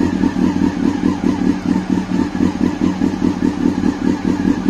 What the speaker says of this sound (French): moteur au ralenti